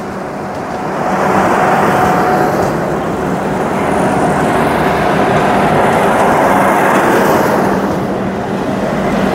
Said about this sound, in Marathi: इथून ट्रेन आली आणि ही इथून चालली